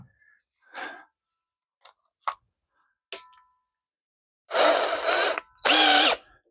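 A power drill fitted with a 1/2 inch bit runs in two strong, sustained bursts while building an aircraft jack stand, preceded by scattered light clicks and taps of handling.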